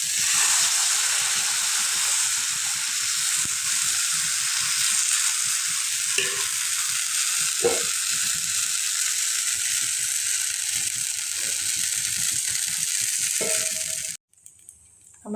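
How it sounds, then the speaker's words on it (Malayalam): Dosa batter sizzles on a hot pan in a continuous bright hiss with a few soft scrapes, then cuts off abruptly near the end, leaving a short stretch of quiet with small knocks. "നമുക്കിതിൽ ദോശ ചുട്ട് നോക്കാം പെർഫെക്റ്റ് ആവുമെന്ന്."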